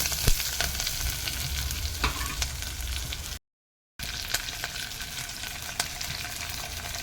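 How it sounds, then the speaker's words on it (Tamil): Mustard seeds, urad dal, curry leaves and dried red chillies fry in hot oil with a steady crackling sizzle and scattered sharp pops. A brief dead-silent gap breaks it near the middle. "கடுகு உளுந்தம் பருப்பு பொரிஞ்சிச்சு. கருவேப்பிலை, வரமிளகா, மல்லித்தலையை போட்டுவோம்."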